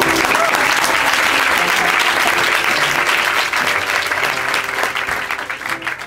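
Audience at an improv theatre show in Paris applauding steadily and loudly, a dense wash of clapping that holds for several seconds and eases slightly at the end.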